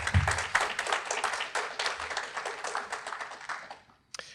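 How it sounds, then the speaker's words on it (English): Applause at a virtual awards ceremony for a clean air campaign, a sustained round of clapping from several people that fades out near the end, with a brief sound after it dies away. "One more big round of applause."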